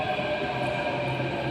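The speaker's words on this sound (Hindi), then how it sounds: "एक मेट्रो निकल गई" Metro train pulling out of a station platform in Gurugram, a steady loud rumble and whine of wheels and motors filling the whole stretch, with no voices heard.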